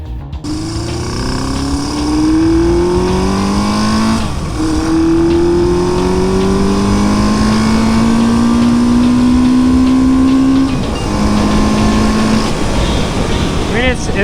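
Motorcycle engine running steadily while riding after a petcock and carburetor rebuild, with a loud drone rising and falling in pitch through gear changes, a persistent near roar throughout.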